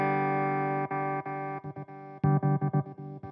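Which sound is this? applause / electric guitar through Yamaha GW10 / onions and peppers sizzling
electric guitar through Yamaha GW10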